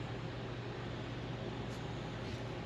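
Steady broadband whoosh of a shop's central air heater running, a constant low hum and airy hiss with no other sounds.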